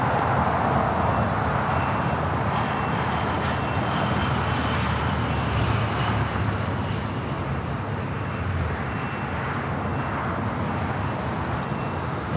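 Jet airliner taxiing toward an open gate at the Tom Bradley terminal at LAX, a steady broadband engine roar and rumble holding level throughout, with no talk over it.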